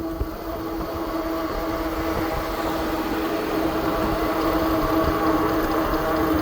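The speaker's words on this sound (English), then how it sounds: "So let's see how much speed we lose throttle only up a hill" A FreeSky Rocky electric cargo bike climbing a steep hill on throttle alone gives a steady, even motor whine with a constant hum and road rumble beneath it, continuous and close.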